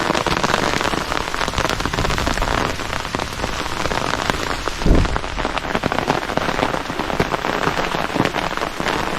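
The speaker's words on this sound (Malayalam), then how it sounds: "നല്ല മഴയായി." Heavy rain falls steadily at Kattadikadavu viewpoint, a loud, dense and continuous hiss of drops striking surfaces nearby, with a brief low thump partway through and no talking.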